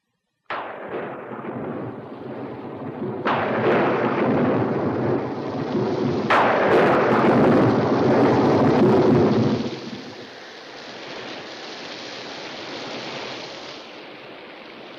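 A thunderstorm with heavy rolling thunder, several loud cracks breaking over steady rain, each rumble swelling and lingering before easing into a quieter wash of rainfall.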